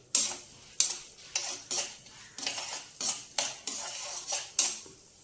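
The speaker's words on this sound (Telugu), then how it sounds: "ఇవన్నీ చక్కగా మనం ఆయిల్లో వేయించుకోవాలండి." Lentils and spices fry in oil in a pan for a ginger chutney, as a metal utensil stirs and scrapes with rhythmic clinks over a faint sizzle, close up and without talk.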